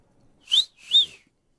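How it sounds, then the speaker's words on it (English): A character in the Final Fantasy XVI video game gives two short, bright, close whistles, each rising then falling in pitch, separated by a brief pause against near silence. "bad at whistling."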